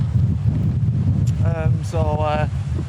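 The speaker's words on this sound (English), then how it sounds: "It's really windy." Heavy wind of about 50 mph buffets the microphone on a clifftop at Portreath, Cornwall, in a constant low roar, with a voice briefly speaking over it.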